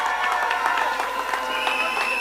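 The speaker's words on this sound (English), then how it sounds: "So can we give them a round of applause?" A crowd at a political gathering claps steadily in brief applause, with some cheering mixed in and no speech over it.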